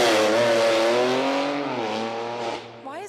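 A BMW M4 revs hard and drives off, a loud close engine roar whose pitch climbs and then falls away, with a short rising whine at the very end.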